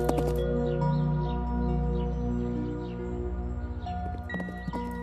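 Horse hooves clip-clop in a Hindi children's story, a steady rhythmic trot over continuous background music, clearest in the second half.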